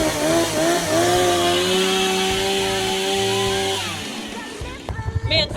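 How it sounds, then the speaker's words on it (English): A chainsaw engine roars steadily at close range, its pitch wavering, then winds down and sputters out into a few rough knocks. "The only problem is I can't start the chainsaw."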